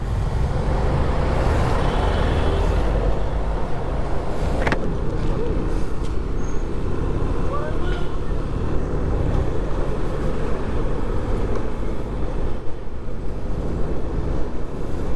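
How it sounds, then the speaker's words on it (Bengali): Night traffic on a jammed Dhaka road in winter, heard from a motorbike. A constant loud rumble of engines and road noise is mixed with wind buffeting on the microphone, with no clear speech. "এত রাত তারপরেও জ্যাম"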